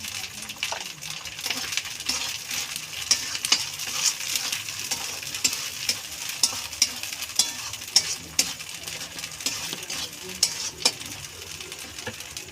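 Spice paste frying in oil for a mutton curry, a steady sizzle under repeated sharp spoon clinks against the pot, close and fairly loud.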